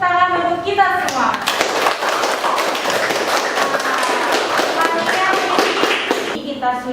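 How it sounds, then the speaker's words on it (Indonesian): A class of junior high school students clapping together in a classroom, a burst of loud, brisk, dense hand claps lasting several seconds, with voices briefly heard at the start and end. "Sekarang tepuk tangan untuk kita semua."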